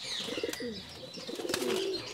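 Racing pigeons in a loft coo in soft, low, rolling calls, repeated a few times close by at fairly low volume.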